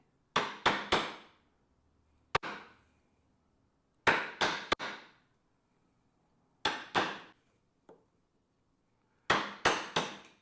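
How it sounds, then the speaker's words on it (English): A mallet drives a small chisel into wood while chopping out material for a Morris chair joint, sharp hard strikes in quick clusters of three or four, separated by brief silences, close and crisp. "The reason why I have a smaller chisel, it's because it's going to go deeper into the material quicker."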